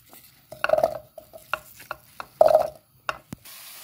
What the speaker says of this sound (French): Maintenant, on va mettre les pommes sur un casserole.